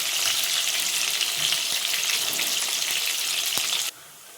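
Soya chunks deep-frying in a pot of hot oil, a loud, steady hiss of sizzling with a couple of brief knocks, cutting off abruptly to quiet near the end.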